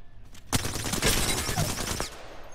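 Rapid bursts of gunfire from Apex Legends ring out in a dense, sustained volley lasting about a second and a half, loud and close, then cut off abruptly.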